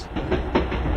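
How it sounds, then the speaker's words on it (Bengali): A brief train sound effect: a rolling rumble with a few rhythmic clacks of wheels over rail joints, close and fairly loud, with no voices. "এটা ট্রেনের আওয়াজ"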